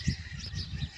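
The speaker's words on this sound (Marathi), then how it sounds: "पक्ष्यांचा किलबिलाट" Faint birds chirp and tweet in the distance over a low outdoor rumble, scattered calls with no steady rhythm.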